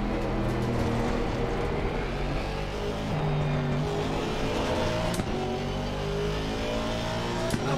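A Porsche race car in Assetto Corsa Competizione runs with a steady, loud engine drone full of layered harmonics, holding and shifting pitch throughout without a break.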